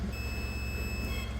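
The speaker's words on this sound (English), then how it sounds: "you can see and hear we've got full continuity there" A multimeter emits a steady continuous continuity beep while probing a wire on a 2023 Maserati ECU, a thin high tone held for over a second at moderate level.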